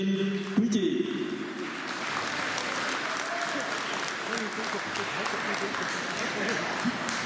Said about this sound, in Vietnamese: Xin các chị đứng lên để chúng tôi được vỗ tay tri ân quý chị.